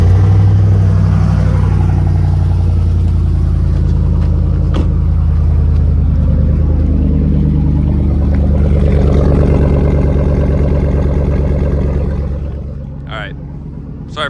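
A Honda B16 car engine with a freshly rebuilt transmission runs with a loud, steady low rumble close by, then drops away near the end. Talk carries over it.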